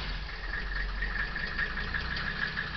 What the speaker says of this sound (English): Key on. Glow plug heat. Clutch in. Start.